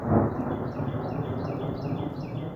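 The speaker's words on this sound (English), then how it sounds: "Whoa, did you hear that thunder?" Thunder rumbles low and steady from a distance outdoors, a broad muffled roll lasting a couple of seconds with faint chirps above it.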